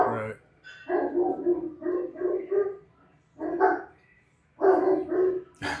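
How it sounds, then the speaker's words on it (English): A dog barks repeatedly in short bursts and clusters, loud and close, with brief pauses between volleys. "Dogs don't like having that door closed when people are leaving."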